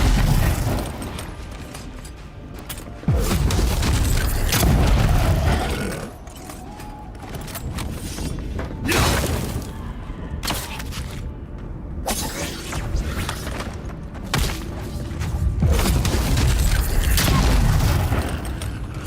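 Heavy rifle fire in the fantasy game Avowed, a series of loud booming shots with crashing impacts and mechanical clatter spread across a busy combat mix, several strong bursts rising over constant battle noise.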